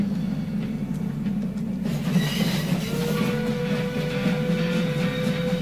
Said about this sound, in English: The old Wild West trains are so cool.